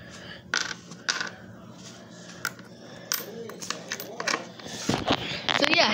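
Coins clink and drop onto a hard surface in a scattered series of sharp metallic taps and rattles, some rapid clusters, close up and fairly quiet with faint handling noise between.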